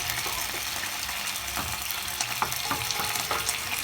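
Beef pot roast simmers in a pot on the stove top, a close, dense bubbling sizzle with scattered clicks and small knocks running steadily without any voices.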